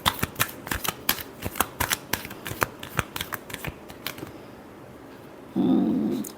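A final shuffle of a tarot deck: a rapid, crisp run of card flicks and snaps for about four seconds, close up, followed by a short pause and a brief steady hum at the end.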